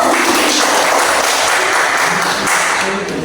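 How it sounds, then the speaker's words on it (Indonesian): Students in a classroom training lesson applaud together, a dense, steady wash of clapping heard close and loud for the whole stretch. "Tepuk tangan dulu."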